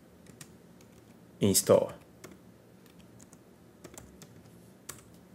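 Typing a terminal command on a MacBook keyboard: soft, close key clicks with one brief louder burst of rapid keystrokes, then scattered taps, quiet and near, with a voice speaking over them.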